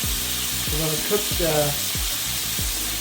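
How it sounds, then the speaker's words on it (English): Loud, steady sizzling of Korean short ribs frying in a hot pan, with a few low thumps and clinks over the constant crackle. "Oh, you hear that? Sizzling."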